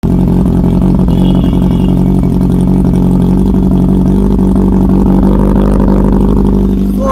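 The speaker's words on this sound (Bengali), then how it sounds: "শুনতে পাচ্ছ কি পরিমাণ সাউন্ড আসছে বাইক থেকে" A 2016 Kawasaki Z800 motorcycle with about 35,000 km on it, engine running loud and close in a steady, throaty idle drone with a slight rise in revs.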